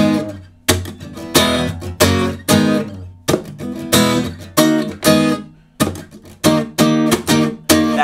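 Acoustic guitar strumming the chorus of a song in a down-down-down-down-down-up-down pattern, loud and close, phrases separated by brief gaps, with no voice.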